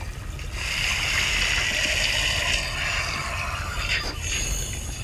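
Water rushing in within the horror video game Baby in Yellow, a steady loud gushing and splashing flow with occasional clanking mechanical sounds.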